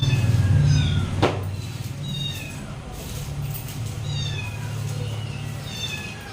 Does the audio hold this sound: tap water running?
no